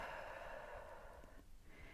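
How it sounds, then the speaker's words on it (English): A slow, steady breath pushed out through the mouth during a pilates de-bloat class, a soft airy hiss that fades out toward the end, heard alone with no talking. "And then exhale everything out."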